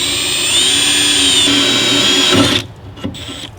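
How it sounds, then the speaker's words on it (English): A power drill whines steadily while boring holes through the tailgate of a Jeep during installation of a tailgate table, running loud and close for about two and a half seconds before stopping, followed by faint clicks and handling noise. "Go ahead and drill the others out now."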